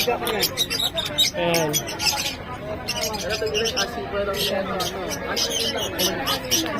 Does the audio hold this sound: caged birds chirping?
yes